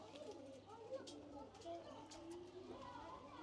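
Soft cooing from a pair of white-eyed pigeons kept by a fancier in Ghaziabad, with low, faint calls under close conversation between men.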